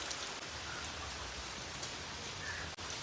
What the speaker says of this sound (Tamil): வெளியே செமையாக மழை பெஞ்சிட்ருக்கு.